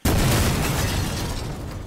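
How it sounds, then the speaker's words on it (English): A deep, sustained explosion sound effect played back in a Pro Tools surround mix, bursting in abruptly at full loudness with heavy low-end rumble and then slowly tapering off over a couple of seconds. "indicating that we're getting some of this explosion sound in the subwoofer"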